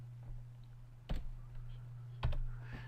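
Two separate keypresses on a computer keyboard, each a short close click over a steady low electrical hum, spaced about a second apart.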